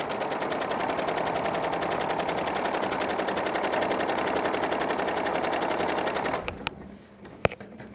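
A sewing machine stitches quilt pieces in one long continuous chain, a rapid, steady mechanical chatter that runs without pause before stopping, followed by a couple of sharp clicks.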